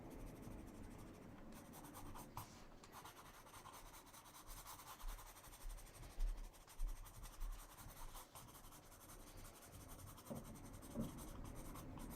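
Colored pencil rasps and scratches steadily across pearl-finish paper in close, quiet strokes, a continuous dry rubbing texture with small irregular bursts, no talking over it.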